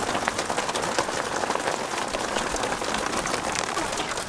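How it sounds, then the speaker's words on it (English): Hail falls steadily and patters all over the outside of a pop-top camper during an afternoon storm in Mexico, a dense, even rattle of small impacts heard from inside the camper. "There's hail just dancing around all over."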